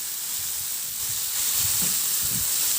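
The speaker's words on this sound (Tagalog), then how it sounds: "At ilagay ko na rin yung kamatis. Ihalo lang hanggang sa maluto yung kamatis." Tomatoes sauté and get stirred in a pan for a simple Filipino fish dish, a steady close sizzle with soft scraping stirs that grow slightly louder toward the end, no voices.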